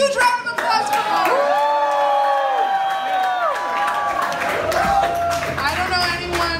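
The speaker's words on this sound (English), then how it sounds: "give a fucking huge round of applause for him." A crowd at a concert in Brooklyn cheers and claps, with loud overlapping shouts and applause under voices and sustained music.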